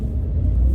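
An 805-horsepower truck engine with a Pedal Commander throttle controller pulls away gently from a parking lot, a deep, steady low rumble heard close and loud for a brief moment.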